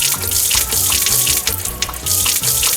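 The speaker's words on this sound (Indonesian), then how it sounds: "Anda menyirami bibit" Steady splashing, gushing water as a seedling is watered in a farming video game, loud and continuous throughout with no speech.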